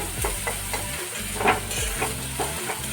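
Masala stirred and fried in a pan, with a steady close sizzle and repeated soft scraping strokes of a spatula running throughout, no voices.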